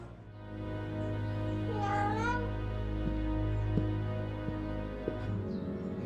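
A cat meows once in the Vertigo video game, a single rising-and-falling cry near the middle over a steady low hum and faint clicks.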